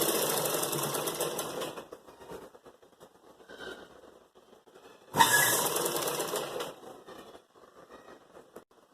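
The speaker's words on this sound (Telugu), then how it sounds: "అలాగే రెండో వైపు కూడా మనం స్టిచ్చింగ్ అనేది చేసుకోవాలి." Sewing machine stitching the raglan sleeve of a jabla blouse, a close mechanical whirring run that pauses, then starts again for a second stretch, with fabric handling sounds between runs.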